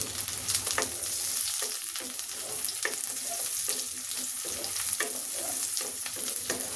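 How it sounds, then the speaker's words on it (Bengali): Potato pieces fry with onions in a pan for a Kolkata-style pui shak dish with fish head, a bright steady sizzle close by, broken by light scraping stir strokes throughout. "এখন এর মধ্যে আমি আলুর টুকরোটা দিয়ে দিচ্ছি, এটা একটু ভেজে নেই।"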